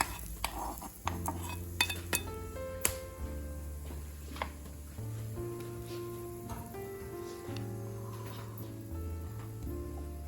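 A spoon stirs hot tempering fried in sesame oil into freshly ground coconut chutney, with scattered metallic clinks and scraping against the bowl over a steady tonal hum, and no talking.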